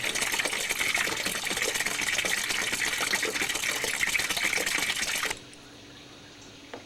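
Coolant gushes steadily from a Range Rover radiator into a pail, a loud continuous splashing pour that stops abruptly near the end, leaving quiet.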